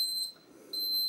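A cooking thermometer alarm goes off while foie gras is poached at 75 degrees: a faint, steady high-pitched electronic beep in two pulses, with a soft kitchen hum underneath.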